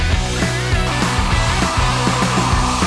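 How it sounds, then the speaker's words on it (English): Heat gun blowing steadily to shrink tubing over spliced wires during work on a turbocharged Honda Civic, a continuous close airflow hum with a few faint clicks and no speech. "now we can go to set up the heat gun so we can heat shrink it"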